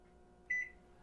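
Kitchen timer on an oven set while baking butter pecan cookies, giving one short electronic beep over a quiet room hum.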